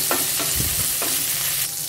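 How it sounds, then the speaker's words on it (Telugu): Green chillies and curry leaves fry over medium flame in a pan, giving a loud continuous sizzle with a few brief stirring scrapes, close and with no voices. "అలాగే కొద్దిగా కరివేపాకు మీడియం ఫ్లేమ్లో ఈ పచ్చిమిరపకాయలని లైట్గా వేగనివ్వాలి"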